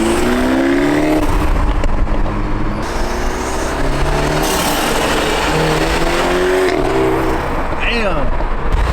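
A stock BMW 330 G20 with a resonator delete revs repeatedly, its engine pitch rising and falling in loud, close bursts, with voices talking over it.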